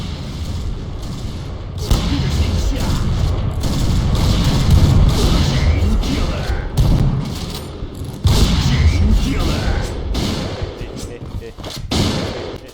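Repeated loud sniper rifle shots and booming blasts from the video game Point Blank. Sharp cracks recur over a dense, continuous din, and a voice talks underneath.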